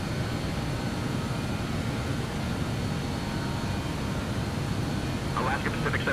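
Steady broadband roar of a BAe 146 airliner's engines climbing out of Kodiak toward Anchorage in Microsoft Flight Simulator, continuous and loud throughout, with a faint tonal chirp near the end.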